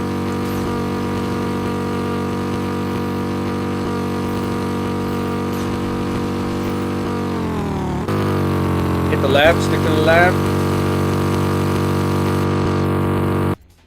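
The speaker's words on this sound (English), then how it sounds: "Literally broke our car. Do you hear our car? It's so bad." Broken, sputtering race car engine in the LEGO Universe video game, a steady harsh drone like an angry lawnmower running throughout, with a brief pitch sweep near the end; players talk over it.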